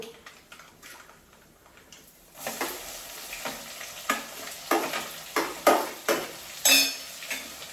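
Onions fry in a pan, a quiet start giving way to a steady sizzle punctuated by repeated scraping stir strokes of a spoon against the pan, close by.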